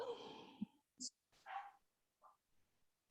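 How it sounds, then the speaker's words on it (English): A pet dog barks in the background during a book-launch video call, giving a few short, muffled yips and woofs spaced across a quiet stretch, somewhat distant, with breathy sounds near the microphone. "My dog is barking."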